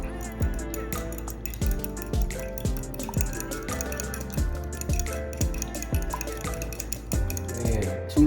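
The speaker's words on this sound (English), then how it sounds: "Now you're gonna stir 2 eggs." A utensil stirs two eggs in a bowl for ricotta lasagna filling, producing a brisk, regular run of close wet clinks and drips, one stroke after another, fairly loud and unbroken by talk.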